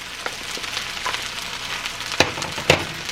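Peas and carrots fry with hot rice in a pan for shrimp fried rice, a constant soft sizzle broken by a few sharper crackles and stirring scrapes.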